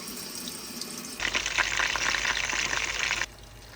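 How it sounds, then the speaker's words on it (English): No-sugar bacon starts rendering in a pot for red beans and rice. A loud, steady hiss of frying fat begins suddenly after a quiet start, holds for about two seconds and then drops back. "So we're going to render our no sugar bacon."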